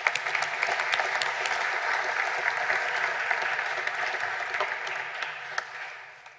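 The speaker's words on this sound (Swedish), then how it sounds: "Varm applåd." Warm, steady applause from a seated audience after a presentation on a report about mortgage amortization requirements, dense clapping filling the room at even strength throughout with no voices over it.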